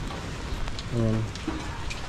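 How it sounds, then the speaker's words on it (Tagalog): Steady monsoon rain pours down at sea in a dense, constant hiss, with a voice briefly murmuring partway through. "dala lang ito ng habagat kaya ganito yung ulan yan"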